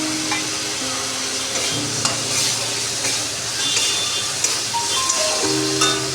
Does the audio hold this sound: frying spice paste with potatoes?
yes